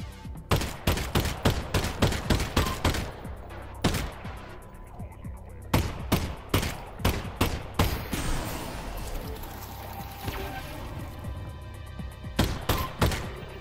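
Rapid bursts of gunfire from Half-Life: Alyx, played in a GoldenEye 007 Facility remake, crack out in dense volleys with brief pauses, loud and close throughout.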